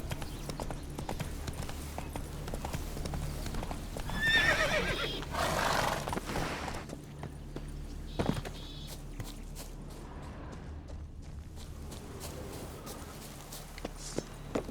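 Roach, a horse in The Witcher 3, trots with steady clip-clop hoofbeats and lets out a loud whinny partway through, set against ambient game background sound.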